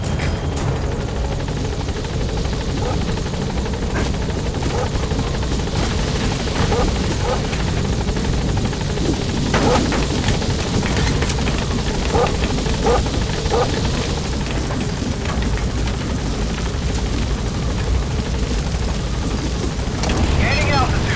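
Pequod, the support helicopter in Metal Gear Solid V, lifts off and gains altitude with a loud, steady rotor thrum and turbine roar that persists throughout, joined by gusty wind noise and brief radio-style voice lines.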